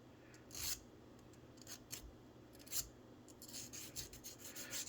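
Small file rasping a model train truck part from an Athearn Blue Box SW1200 down to bare steel, with quiet scratchy strokes in uneven short bursts, close and faint, no talking.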